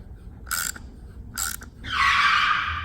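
A ratchet loosens a bolt using a Gearwrench Bolt Biter socket, giving two short sharp clicking bursts followed by a longer grinding rasp, close and fairly loud, with no talking.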